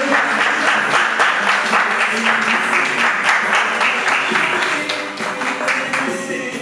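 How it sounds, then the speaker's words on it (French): An audience at a Miss BPX 2019 semi-final pageant gives steady, loud applause that fills the whole stretch, with some cheering voices mixed in, and it fades slightly near the end. "Pourquoi ne pas continuer à applaudir,"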